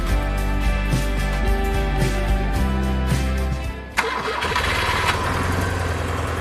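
A motorcycle stored for weeks in a barn cranks with a rapid chugging starter for several seconds, then catches and fires into a loud, steady running engine.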